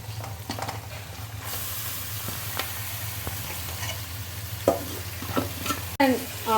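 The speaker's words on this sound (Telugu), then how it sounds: "ఇప్పుడు మనము ముందుగా కలిపి పెట్టుకున్న ఫిష్ని కూడా వేసుకోవాలి" Marinated fish pieces are added to a frying pan and stirred, giving a continuous low sizzle with occasional utensil clinks and scrapes that grow sharper toward the end, with no talking.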